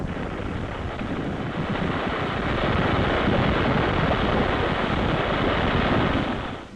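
A full-fledged geyser erupts, throwing out groundwater in a continuous loud, broad roaring rush that holds steady and swells slightly before easing off at the end, with no voices.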